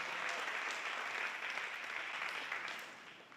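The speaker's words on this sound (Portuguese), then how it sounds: "Vamos dar uma salva de palmas para o nosso Deus." A church congregation bursts into steady applause in praise of God, a dense, even wash of many hands clapping that fills the room and then tapers slightly toward the end.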